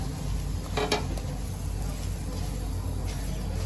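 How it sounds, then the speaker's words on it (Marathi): A paratha sizzles steadily on a hot oiled pan after being flipped, a loud continuous frying hiss with a brief scraping clatter of the flip near the start and no talking. "पराठा चांगला फुलायला लागलाय आता ह्याला मी पलटी मारून घेते"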